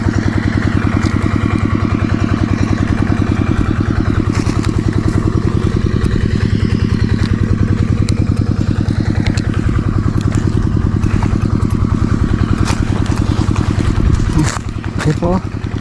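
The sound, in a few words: engine running nearby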